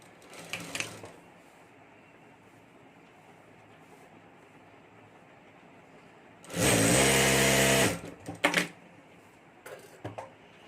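A sewing machine stitches the fabric lining of a clutch purse in one loud, steady burst of rapid mechanical whirring, with a few short clicks and bursts around it against quiet room tone.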